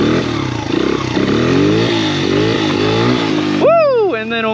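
A motorcycle engine revs hard and steadily through a power wheelie in low gear, its pitch rising and falling. It then ends in a sharp rising rev burst near the finish, loud and close, with no talking.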